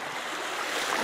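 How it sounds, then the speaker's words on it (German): Water of the Rhine in Mannheim rushes with a steady, even hiss, close and unbroken over a brief moment. "Das Meer tut gerade unheimlich gut mit. Das Rauschen."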